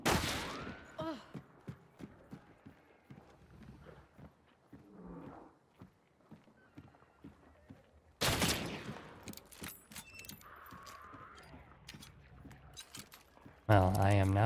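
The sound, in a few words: gunfire in the video game Hunt: Showdown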